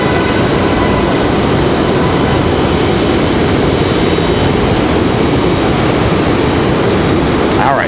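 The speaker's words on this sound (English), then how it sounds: "American flight out here in the distance" An American Airlines jet at Raleigh-Durham International Airport gives off a loud, continuous rumbling roar that holds steady throughout without letting up.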